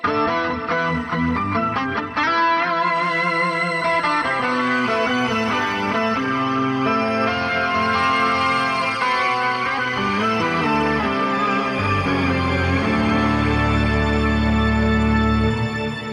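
Electric guitar played through a BOSS 200 series pedal set to reverb, chords and melodic notes blooming into a long, spacious tail, steady and loud with no voices.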